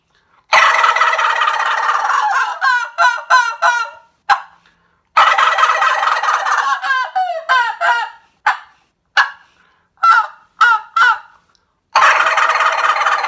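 A loud, rapid rattling gobble made on a tube turkey call imitating a mature long-beard gobbler, repeated in bursts with short pauses, close and alone with no talking.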